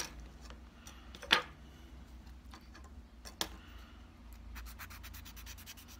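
Sandpaper files fingernails shaped for classical guitar playing, a faint scratching and rubbing close by, with a couple of sharper scrapes and a quick run of light ticking strokes near the end.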